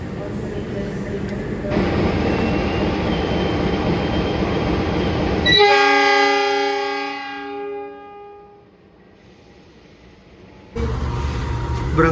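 A passenger train departs Kertosono station in Indonesia with a loud rumble, then a series of bright sustained horn-like tones that fade into near silence before the rolling noise returns.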